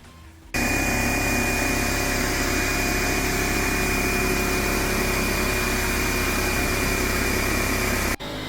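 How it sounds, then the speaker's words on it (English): Air compressor in a garage starts with a sudden jump and runs loud and steady for about eight seconds, a continuous motor drone with a high whine, then cuts off abruptly near the end. "I'm going to turn the compressor on. The compressor's going to make all sorts of noise."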